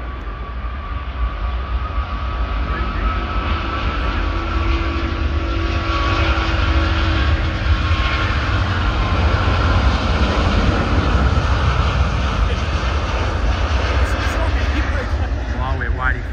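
A Qantas Airbus A380 airliner departs Sydney Airport on a flight to Los Angeles, its jet engines a loud, steady broadband roar that holds throughout, with some talk nearby.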